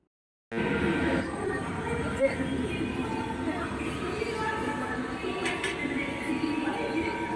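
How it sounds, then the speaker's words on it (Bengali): A metro train pulls into a station, a steady low rumble and rolling hum that starts abruptly and holds at even loudness, with a faint click partway through and voices nearby. "ফাইনালি মেট্রো এখন ঢুকে গেছে"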